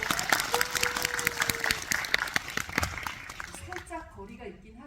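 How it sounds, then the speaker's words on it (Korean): A crowd at a special film preview screening and Q&A event applauds loudly, with a brief steady tone sounding during the first seconds. The clapping thins out toward the end as a voice begins speaking. "박수 한번 주세요"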